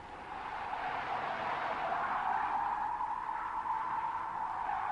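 A front-wheel-drive car at a winter driving school loses grip as the throttle is pressed hard, its driven wheels spinning with a steady, loud rushing whine that holds unbroken throughout.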